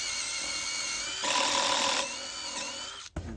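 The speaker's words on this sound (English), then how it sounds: "So 12 inches, we're gonna pre-drill it." A power drill bores a pilot hole into a 2x4 stud while building an off-grid house in the woods, its motor whining steadily, rising to a louder bite for under a second, then winding down and stopping with a click.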